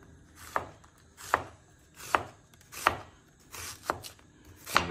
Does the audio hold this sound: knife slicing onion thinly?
yes